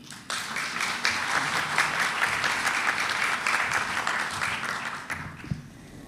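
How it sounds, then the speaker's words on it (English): Audience applause after an opening ceremony speech at a regional session on ending gender-based violence, a dense, steady round of clapping from a sizable crowd that holds for about five seconds and then tapers off. "I know you can give them all a rousing round of applause"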